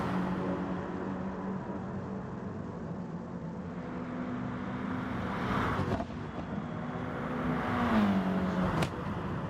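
Race cars in a racing video game, engines droning steadily with rising and falling pitch as they accelerate, a couple of sharper passes cutting through a continuous mid-level roar.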